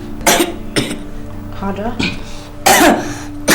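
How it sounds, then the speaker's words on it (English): A patient coughs during a medical examination, giving several short, sharp bursts spread across the moment, close and fairly loud, with a doctor's voice speaking between them. "cough"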